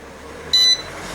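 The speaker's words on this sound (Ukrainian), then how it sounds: "він пікне, а потім переходить в режим калібровки" A digital display power supply gives one short, clear electronic beep after its button is held down, about a fifth of a second long, loud against a quiet background with no talk.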